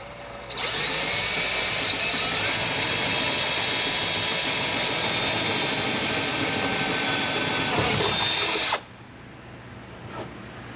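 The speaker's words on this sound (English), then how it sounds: "drill your second hole" A power drill whirs steadily at high speed for several seconds up close, drilling a mounting hole for a tool box swing mount, then cuts off abruptly, leaving a quiet room.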